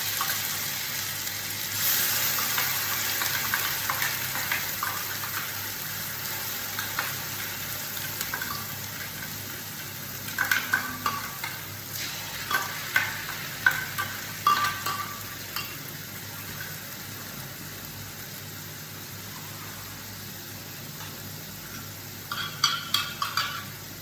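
Onion and dried red chili paste frying in butter in a pan for a paneer dish, a soft continuous sizzle with bursts of stirring scrapes and clinks, no talking.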